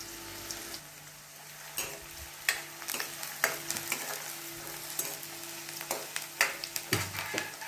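Onions fry in hot oil in a kadhai, a faint steady sizzle broken by repeated scraping clicks of stirring, with no talk.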